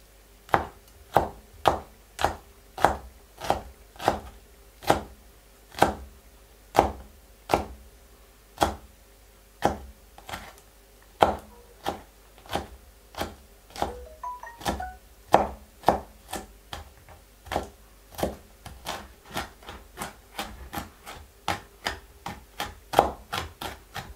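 A sharp knife chops garlic on a board in a long, steady run of crisp taps, close and distinct, the pace quickening slightly toward the end.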